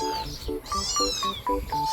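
Several young kittens meow repeatedly in quick succession, high thin cries overlapping close by, with soft handling noise underneath and no talking.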